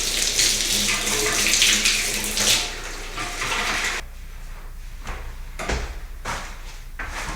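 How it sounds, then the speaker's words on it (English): Warm water running from a tap for washing a wig, a loud steady rush that stops abruptly, followed by a few quieter knocks and splashes. "Let's go get some warm water."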